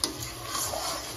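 Potatoes frying in a home kitchen pan while being stirred, a brief close sizzle with a faint scrape at the start and continuous crackling hiss.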